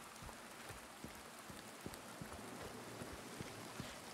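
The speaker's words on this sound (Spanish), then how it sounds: "conforme cae la gotita de lluvia" Steady rain falls in Silent Hill 2 Remake, a soft continuous hiss with scattered droplet taps, faint and even throughout with no voices.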